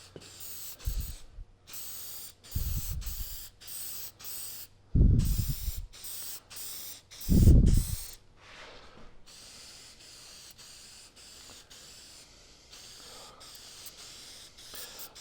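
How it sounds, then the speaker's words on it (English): Several short bursts of shellac spray hiss from an aerosol can, four main sprays with pauses between, followed by quieter handling noises. "Let me show you how we're going to do our spray though."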